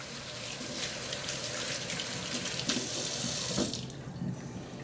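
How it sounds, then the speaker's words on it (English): Steady rush of water from a kitchen tap as hands are washed, running continuously and close by, broadening briefly near the end before tapering off. "let me just give my hands a quick wash"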